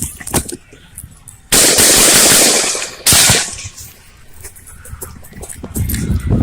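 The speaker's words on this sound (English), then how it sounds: "the sound of those bullets on his camera are because he's right below every bullet that was shot" Gunfire captured on body camera footage at a Trump rally: two long bursts of loud, sharp rapid shots close to the microphone, with scattered fainter cracks and background noise between them.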